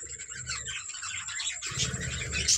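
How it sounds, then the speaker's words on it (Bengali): Birds flutter and call around clay pot nests hung on a wall, with several females inside and eggs laid in some; soft chirps and wing noise run steadily, fuller toward the end as many birds leave the pots. "আমাকে দেখে অনেক পাখি হাঁড়ি থেকে বেরিয়ে যাচ্ছে।"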